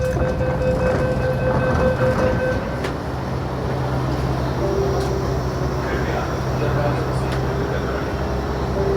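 A Delhi Metro Green Line train rumbles along between stations, a loud, steady rolling roar with mechanical hum and faint clicks, while voices and an announcement carry on inside the carriage.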